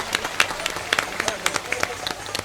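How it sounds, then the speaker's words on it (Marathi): A crowd at a Buddhist vihara gathering in Powai, Mumbai claps to welcome a visiting Happy Science monk from Japan. The clapping comes as scattered, irregular claps, moderately loud, without a sustained roar. "मी सर्वांना विनंती करतो की यांना टाळ्या वाजवून यांचं स्वागत करावं"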